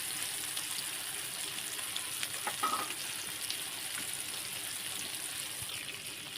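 Datali sizzles as it fries in a pan, a steady close hiss of hot oil with a few soft stirring scrapes near the middle, no voices.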